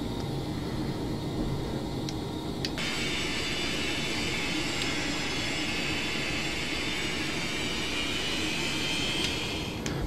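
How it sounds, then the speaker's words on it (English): A jet airliner taxiing in Flight Simulator X, its engines holding a steady, loud whine over a low, constant roar from start to finish, with no talking. "Taxiing in FSX is a big pain in the butt, no matter what plane it is."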